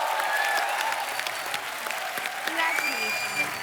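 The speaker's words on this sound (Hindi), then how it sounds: "तालियां।" A studio audience at a comedy show claps loudly and steadily, with scattered cheers and a host's voice talking over the applause throughout.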